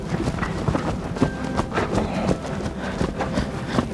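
A horse's hooves beat on an arena track in a steady rhythmic pattern while it turns a tight 10-metre volte, moderately close and fairly soft, with some light background noise.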